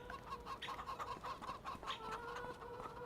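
Chickens clucking in a farming video game, a steady run of short clucks and fowl calls close up with a faint tonal hum underneath, no talking.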